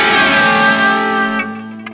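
A sustained electric guitar chord through a pitch modulation effect in the Guitar Rig 6 Player plugin, loud and wavering, slowly fading over about two seconds with a couple of faint plucks near the end.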